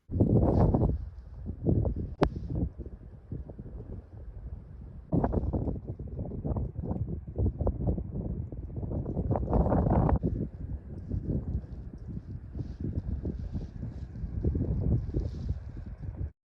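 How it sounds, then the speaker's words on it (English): Strong wind at Black Mesa, Oklahoma, buffets the microphone in loud rushing gusts for the whole stretch, with only brief lulls between blasts. "it's very windy"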